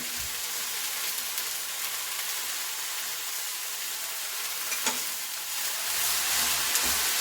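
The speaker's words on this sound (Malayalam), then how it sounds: "അതിന് വെച്ചിരിക്കുന്ന വെണ്ടയ്ക്ക ഇട്ട് നല്ലപോലെ മിക്സ് ചെയ്ത്" Okra stir-fries in a pan, a continuous close hiss of frying with occasional stirring clinks, growing slightly louder near the end, no talking.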